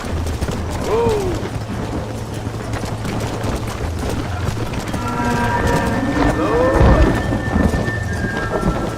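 Thunderstorm with heavy rain in the Red Dead Redemption game, steady downpour with rumbling thunder swelling later, voices and a horse's whinny heard over the storm.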